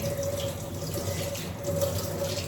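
Running tap water pours steadily into a sink while hands are washed beneath it, a close, even rush with a faint whistle, no voices.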